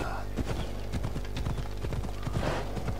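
Horse hooves clip-clop in a steady rhythm while riding in Assassin's Creed Odyssey, close and fairly loud over a continuous game ambience with music.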